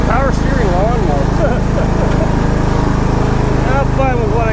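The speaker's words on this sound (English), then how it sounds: "Now I'm going to continue to let the lawnmower run because I want it to warm up." John Deere riding lawnmower engine idling steadily while it warms up, a constant low drone filling the whole clip, with someone talking over it.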